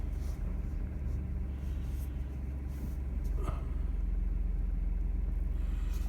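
A car drives through falling snow and sleet on a rural cattle farm, its engine a steady low rumble with road noise running evenly throughout, close and continuous, no voices.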